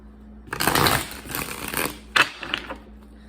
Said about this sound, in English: We got 3 more major shuffles here for Libra.